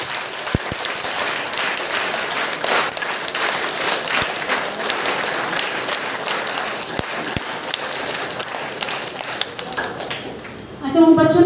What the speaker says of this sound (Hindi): इस बात के लिए एक बार तालियों बजाएं